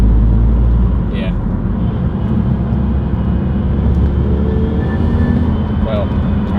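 A Mazda Miata with a 2.5 engine driving at light throttle, a steady loud in-cabin engine drone with people talking over it.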